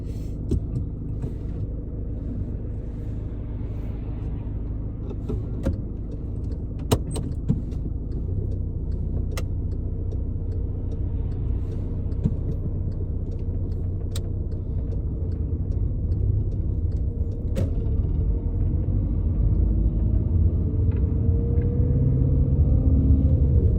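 Car pulling away from the kerb on a driving test in Loughton, with a steady low engine rumble and road noise building gently as it drives off, a few faint clicks on top.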